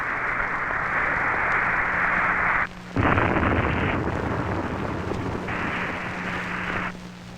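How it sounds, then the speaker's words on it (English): A Titan II missile fails and explodes during a 1963 Air Force test, heard as a loud, sustained roar and rumble with a brief dip before the roar surges again, over a constant broadband hiss. "The missile is destroyed."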